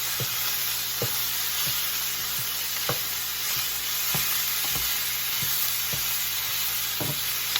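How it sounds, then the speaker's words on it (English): Ground beef sizzles steadily in a hot pan as it is broken up for low-carb chili, with a constant bright hiss punctuated by regular soft scraping and tapping of the utensil against the pan. "I'm gonna finish working on breaking up this ground beef, let that cook until it's brown"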